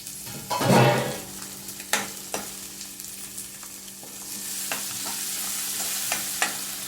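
Onion and tomato hit hot oil in a pan for a Udupi-style bhuthai pulimunchi, giving a loud sizzling burst at first, then softer crackling with occasional stirring scrapes.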